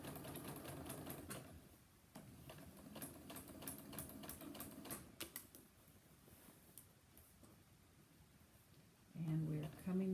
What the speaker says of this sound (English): Here, I'm just going to do a teeny tiny back stitch